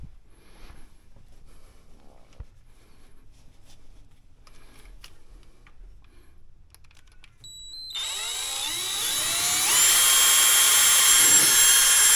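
A power drill whirs up after a stretch of quiet shuffling, then runs steadily and loudly with a high whine until the end.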